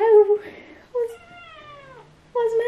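A Ragdoll kitten gives several short, high, close meows in bursts separated by brief pauses, clear and fairly loud.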